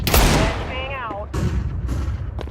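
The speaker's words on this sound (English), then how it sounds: "Flashbang out." A flashbang grenade bursts in Counter-Strike 2 with a sharp, loud bang, followed by a ringing, warbling tone and scattered muffled shots as a voice talks over the action.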